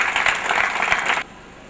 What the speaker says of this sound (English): So let us give all our participants a big round of applause.